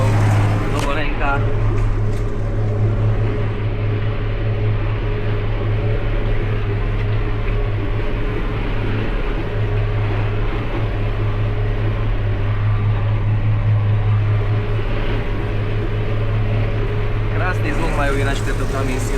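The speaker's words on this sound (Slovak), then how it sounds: "Rádový 6 valec. Ten istý motor sa dával aj do axiálnych kombajnov starší. Len tak pradie." Mitsubishi 8.3-litre inline six-cylinder diesel, the same engine once fitted to older axial combines, idles smoothly in a cab with a steady low hum and drone throughout, with people talking over it.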